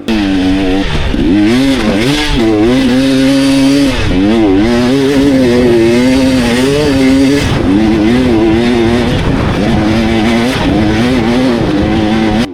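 A dirt bike engine races across sand dunes in Mui Ne, revving loudly and continuously with rising and falling pitch through gear changes, close and dominant with no talk.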